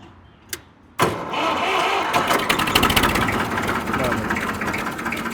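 A Massey tractor engine cranks and catches after a brief click, then settles into a steady loud idle rumble close by.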